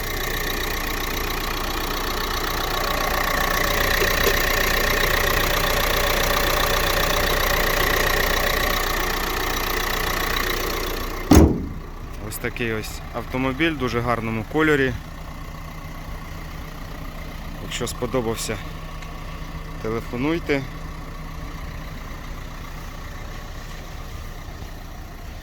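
A Renault Megane 3 with a 1.5 diesel K9K engine and Continental fuel system idles steadily and close for about eleven seconds, a constant rattly diesel drone, before it cuts off and someone speaks over quiet background.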